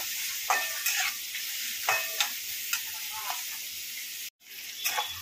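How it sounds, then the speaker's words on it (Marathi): Onion frying in oil until pinkish, a steady close sizzle with repeated stirring scrapes, one brief dropout near the end, and no voice over it. "मस्त कांदा गुलाबी रंगावरती फ्राय झालेला आहे"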